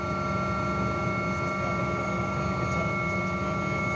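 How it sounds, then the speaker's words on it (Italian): The Vigili del Fuoco fire brigade helicopter Drago 149 flies an aerial survey over the Portogruarese area, its rotor and turbine producing a steady, continuous drone from the cabin, with no voices. "Ecco il sopralluogo aereo dell'elicottero Drago 149 dei Vigili del Fuoco nella zona del Portogruarese."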